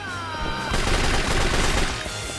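Pistol gunfire in Yakuza 3 as a rapid, dense burst of sharp overlapping shots, loud and close, over game background noise.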